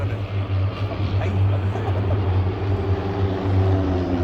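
An MFI-15 Safari propeller aircraft flies an aerial display at the RIAT 2024 air show, its engine a steady, droning buzz that swells and eases slightly.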